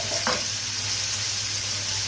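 Liver and meat being stirred together in a frying pan, with a steady hiss of sizzling throughout and a brief scrape of the stirring utensil near the start.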